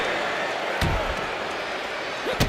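In the WWE 2K25 wrestling video game, a wrestler stomps on his opponent's gut, producing sharp thudding impacts over constant arena crowd noise, with one heavy hit midway and another near the end.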